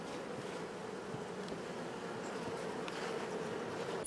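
Honey bees at a beehive kept by an Artvin beekeeper, making a steady, dense buzzing drone that holds evenly throughout, fairly close with no voices.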